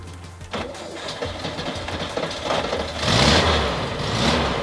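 A 1978 Volkswagen Beetle engine that has sat unused for weeks cranks and catches, starting quietly then rising into a louder rough running roar near the end.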